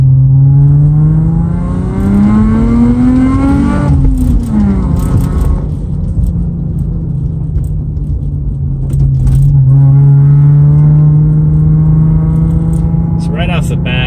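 A Lexus IS300 with an HPS intake, equal length header and 3-inch exhaust revs loudly and close up, the engine note climbing, dropping back and climbing again in steady, strong pulls.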